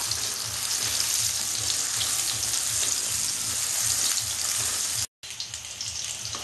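Spices and soybeans frying in a pan for soybean spinach curry, a dense, steady crackling sizzle heard up close and uninterrupted except for a brief dropout near the end.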